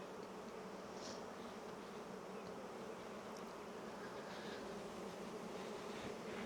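Honey bees hum at the hive in summer, a steady dense buzzing swarm sound, constant and fairly faint, with no talking.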